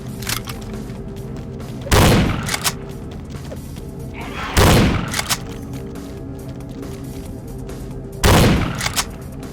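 Gunfire in the video game Vampire the Masquerade: Bloodlines, three loud, heavy booming shots spaced a few seconds apart over quieter background game sounds.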